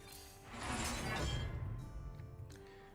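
Shield Shatter hero power in Hearthstone, a swelling crash of shattering glassy shards that builds and fades over a couple of seconds, with no talking.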